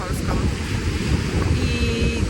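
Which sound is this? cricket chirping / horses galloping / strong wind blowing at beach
strong wind blowing at beach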